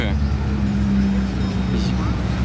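Ferrari cars arriving on a street in Monaco: a close, steady low engine rumble runs throughout, with people talking over it.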